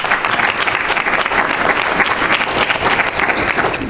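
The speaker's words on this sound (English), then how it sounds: "let's give all of them, if we will, just another great round of applause" A large audience claps in sustained, loud, dense applause at a child welfare conference session, steady throughout with no speech over it.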